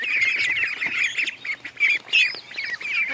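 Newly hatched ducklings chirp in dense, high-pitched bursts close by, with brief gaps between the cheeping runs and no voices.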